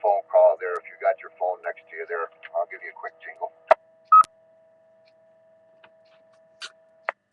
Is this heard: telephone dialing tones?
yes